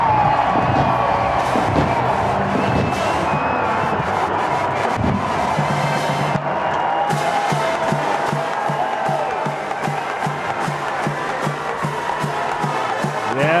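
A stadium crowd of more than 45,000 roars continuously as the Nebraska Huskers take the field at Memorial Stadium in Lincoln for the 2022 Red vs. White spring football game, a loud, dense wall of cheering.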